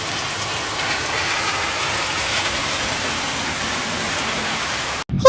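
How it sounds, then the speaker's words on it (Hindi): Steady night rain falls in a constant hiss, even and unbroken, before an abrupt cut near the end brings a short louder burst. "बारिश भी तो हो रही है"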